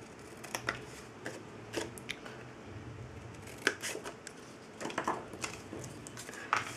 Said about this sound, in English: with a pair of scissors I'm just going to trim the edge.